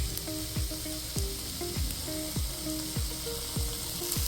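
Milky mushroom roast masala simmering in a pan over a low flame, giving a steady soft sizzle with regular scraping strokes of a spoon stirring through the mixture, close and moderately loud.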